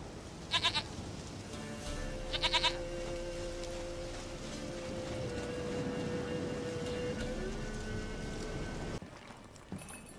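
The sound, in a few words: goat bleating in the video game The Witcher 3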